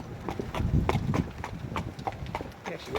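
A harness horse jogs down a lane, its hooves clip-clopping in a steady, even rhythm at close range over a constant outdoor background.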